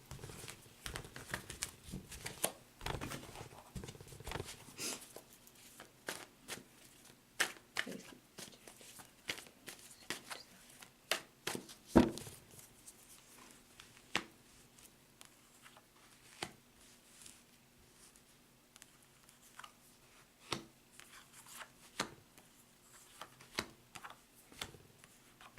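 A deck of reading cards is cut and shuffled close up during a tarot-style reading, giving irregular soft crinkling taps and flicks of card stock that come thicker at first, then sparser and quiet, without talk.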